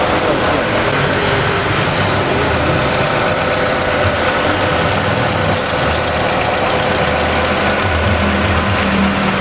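A Chevrolet Estate station wagon engine idles steadily and loudly close by, a continuous low rumble with a faint rattle and no break throughout.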